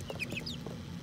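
Chickens cluck in a backyard flock, a few short, close clucking calls in a quick irregular burst over steady low background hum.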